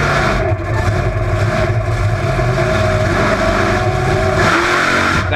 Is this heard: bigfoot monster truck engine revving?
yes